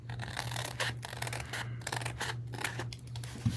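Scissors trimming the edge of a scrapbook paper layer: a series of crisp snipping and slicing cuts in quick succession, close and fairly quiet, with no talking.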